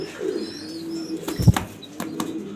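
Grizzle pigeons in a breeding loft coo and call up close, a couple of soft low coos with brief chirps and a light wing or movement thump, no voices.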